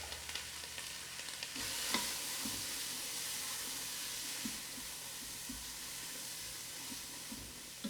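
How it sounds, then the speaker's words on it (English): Diced green pepper, celery and onion sizzle and hiss as they saute in a Ninja Foodi pot, a steady frying crackle with occasional stirring clicks and taps, close up with no talk. "We're gonna go ahead and get that in and start to saute that."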